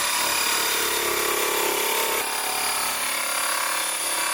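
Power polisher buffing an R34 Skyline with polishing compound, a steady loud whirring drone close by that shifts slightly in pitch midway.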